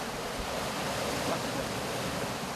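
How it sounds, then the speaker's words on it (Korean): Big ocean waves pound the Indonesian shore where seaweed is gathered, making a constant loud roar of surf mixed with wind buffeting the microphone. "Ombaknya terlalu besar sekali ini, jadi susah nyarinya."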